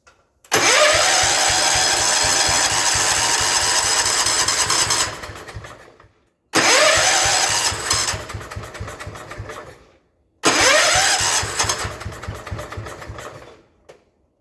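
An old, worn John Deere 112H lawn tractor that has sat for years is cranked three times. The engine churns loudly and roughly, catches, then dies, with short silent gaps between tries.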